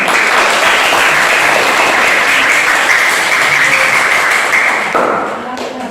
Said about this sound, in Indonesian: tepuk tangan untuk sampai semua sudah selesai